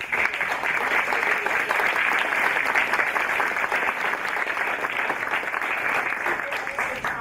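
An audience at a public discussion event in Chicago gives a hearty round of applause, dense clapping that stays strong and steady for several seconds and eases slightly toward the end.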